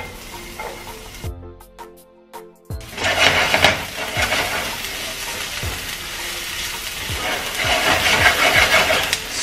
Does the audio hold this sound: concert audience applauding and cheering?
no